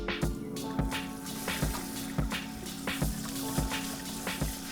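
Water sloshes in a pot as food is rinsed and moved around by hand for curry prep, a close, repeated rhythmic swishing and splashing roughly every half second over a steady background hum.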